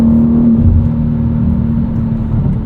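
Steady engine drone from a 2023 BMW M2 with its S58 engine and six-speed manual, driving at night, a constant low hum holding a sustained tone with a slight swell early on, heard from inside the cabin without talk.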